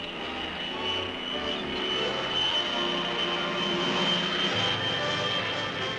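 An Army reconnaissance plane drones steadily overhead, its engine a continuous loud hum with a sustained whine that swells slightly toward the middle and holds to the end.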